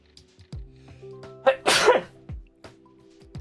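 A single loud, sharp sneeze bursts out close by indoors at a model-building session, set against faint background clicks and room noise.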